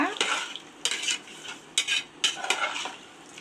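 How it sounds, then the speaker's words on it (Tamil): A spoon scrapes and stirs through beetroot pulao rice in a metal pressure cooker pot, about six quick, rhythmic strokes, close and fairly soft, with no voices. "நல்லா கிளறி விடுங்க."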